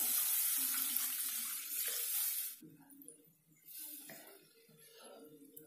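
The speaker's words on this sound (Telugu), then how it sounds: "ఇప్పుడు మనం ఇందులో 1 గ్లాస్ వాటర్ పోసుకుందాం" Water is poured from a glass into a pan of dum aloo curry with cooked tomatoes, a fairly quiet rushing splash for a couple of seconds, then softer trickling and light stirring noises.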